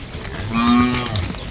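A bull lets out a single deep, drawn-out moo at a rural cattle fair in Bavan Saundatti, fairly close and clear over faint background murmur.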